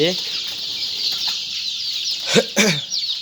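Native country chickens on a poultry farm cluck and call close by, a steady broad chatter of fowl with a couple of louder squawks near the end.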